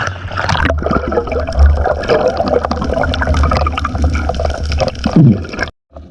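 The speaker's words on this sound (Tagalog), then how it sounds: "Grabe ang lalaki ng alon." Large sea waves churn during a spearfishing dive in rough weather, a loud, continuous rushing and gurgling wash of water that fills the whole stretch without pause before cutting off abruptly at the end.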